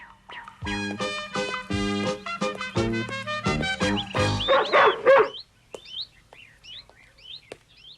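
An animated cartoon dog barks in a run of loud, tonal yelps packed into the first five seconds, followed by fainter scattered chirps and quieter sounds.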